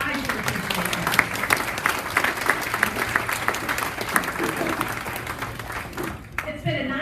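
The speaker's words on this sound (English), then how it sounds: "give all of them a round of applause" Guests at a Hall of Fame luncheon give a steady round of applause, with crisp individual claps over a broad crowd wash that drops off abruptly near the close.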